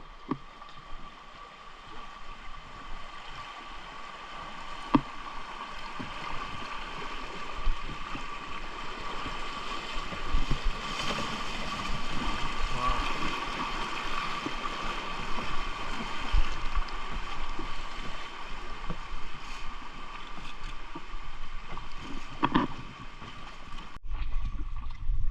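A boat travels upriver through forested nature toward Pagsanjan Falls, a steady broadband wash of water and motor noise that continues at even loudness for the whole stretch, with no talk.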